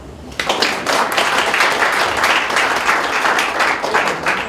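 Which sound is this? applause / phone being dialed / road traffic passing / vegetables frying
applause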